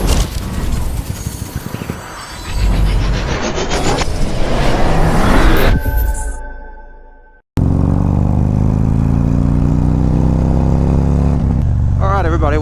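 A Harley Davidson CVO motorcycle engine revs and accelerates with a loud, rising rumble that fades out, then a steady droning engine note resumes after a brief cut, with voices talking over it.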